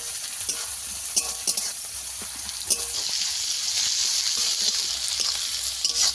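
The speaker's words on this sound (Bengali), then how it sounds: "পেঁয়াজটাকে ভালো করে ভেজে নেব।" Onions with a little salt frying in a pan, a continuous hiss of sizzling oil that swells midway, punctuated by repeated spatula scrapes and clicks, with no one speaking.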